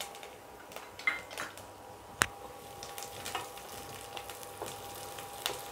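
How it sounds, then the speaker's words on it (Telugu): Curry leaves and garlic fry in hot oil with a faint, continuous crackling sizzle, broken by occasional soft taps of a spatula on the pan. "సో కొంచెం కరివేపాకు వేసుకున్నాక ఇవి కొంచెం ఫ్రై అవ్వాలి"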